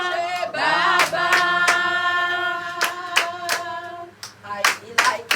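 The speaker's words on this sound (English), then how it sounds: "I feel like clapping" A church congregation claps along during joyful worship music, sharp rhythmic hand claps punctuating sustained singing and organ-like tones.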